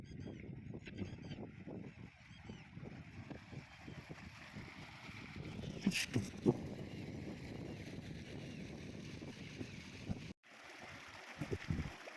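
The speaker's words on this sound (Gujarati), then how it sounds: "જો ધોરિયા ચાલુ છે ફૂલ પાણીઓ" Water rushing along a full irrigation channel on a farm, a steady low wash heard outdoors with gusty wind noise against the microphone and a brief break near the end.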